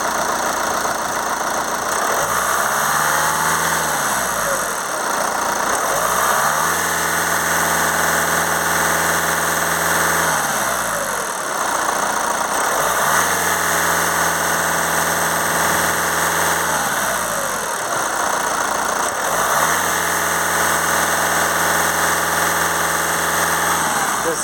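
A VW Transporter diesel with a turbo position sensor fault idles steadily, then is revved in three distinct swells that rise and fall back to idle, loud and close throughout with no talking.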